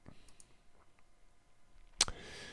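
A computer mouse gives a single crisp right-click after a near-silent stretch, close and distinct against faint room background.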